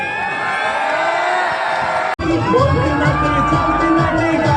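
Crowd at a shop opening for a sherwani store in Chandlodia, Ahmedabad, cheering and shouting loudly with children's voices and whoops, a sharp bang midway, then continued noisy excitement.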